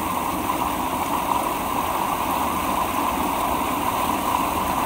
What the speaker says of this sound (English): That is a lot of water going through that pipe.